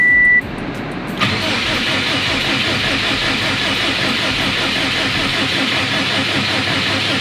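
A rebuilt Subaru WRX STI engine cranks over steadily and loudly on the starter without catching, a rapid rhythmic chugging that continues unbroken.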